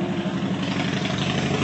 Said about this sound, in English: motorcycles, they're my least favorite thing in the whole world. They are so freaking noisy.